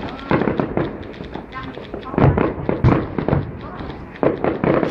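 Fireworks burst over a city lake in Hai Phong in 2012, with repeated loud booms and crackling pops coming in quick clusters from a middle distance while people chat nearby.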